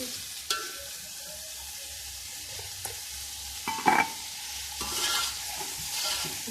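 Spice masala is stirred and fried in a pan for beef pulao: a soft, continuous sizzle broken by several sharp scrapes and clinks of a spoon against the pan, with no talking.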